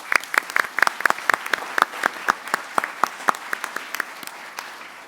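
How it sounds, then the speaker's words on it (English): Audience applause at a school board meeting, a burst of sharp, fairly close hand claps from a modest crowd that thins out over a few seconds, with no talking. "Please give a round of applause to Vera Santana."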